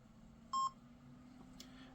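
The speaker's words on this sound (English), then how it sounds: "The beep confirms that everything is connected" A FrSky radio gives a single short, clear electronic beep confirming its Rotorflight connection, heard alone over a faint background hum, followed by a soft tick.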